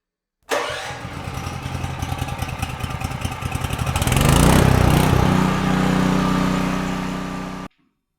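A 2G40 ELITE electric generator's engine cranks with a rapid rhythmic chugging, then catches and settles into a loud, steady running roar, close by with no talk over it.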